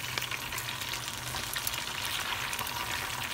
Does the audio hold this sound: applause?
no